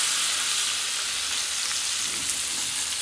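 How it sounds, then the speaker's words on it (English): Pomfret fish frying in masala in a pan over low gas, a steady close bright sizzle and crackle continuing evenly throughout without talk. "Fish is cooking away."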